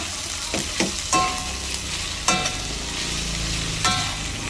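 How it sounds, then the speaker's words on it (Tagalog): Vegetables hit hot oil in a pot for Filipino sopas, giving a steady close sizzle and frying crackle with a few sharp bursts as they are stirred, and no talking. "lagay na po natin yung ating mga gulay. Pinagsama-sama ko na"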